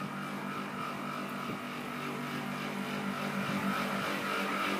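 A noisy Tadiran air conditioner runs continuously, giving a dense, steady whir and hum with a broad hiss on top, loud and unbroken for the whole stretch.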